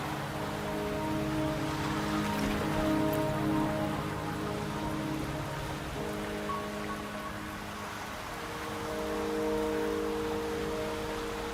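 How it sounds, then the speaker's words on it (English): Steady rain falls in the video game Wuthering Waves, a continuous soft hiss of drops spread evenly throughout, with faint sustained ambient music tones running beneath. "Don't worry, the rain won't last much longer."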